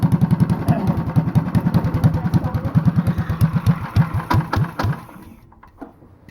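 A Honda clone small engine fitted with a 10 pound flywheel chugs slowly at about 500 RPM, giving a loud, steady, even thump of firing pulses that then drop away to a quieter run-down near the end.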